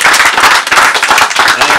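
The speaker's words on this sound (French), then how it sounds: "On peut les applaudir, oui." A small audience at an auto-cross event gathering claps for a local company of about ten employees, loud, close and brisk applause with distinct individual claps.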